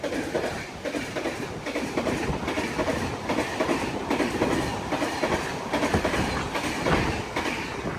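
Uttar Pradesh Sampark Kranti Express running on its tracks, a loud continuous rumble with rhythmic clickety-clack of wheels over rail joints, heard from inside a 3rd AC coach with no talking.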